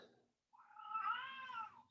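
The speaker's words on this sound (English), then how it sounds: "my cat is informing me that she has been insufficiently fed" A hungry house cat gives one long, drawn-out meow, rising then falling, close but fairly soft in a quiet room, after a brief fragment of quieter sound.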